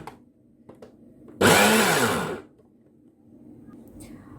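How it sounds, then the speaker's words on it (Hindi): A blender grinds a beef seekh kebab mixture in one loud, close burst of about a second before cutting out, with no other sound over it. "और अब मैं इसको ब्लेंड करती हूँ थोड़ा सा"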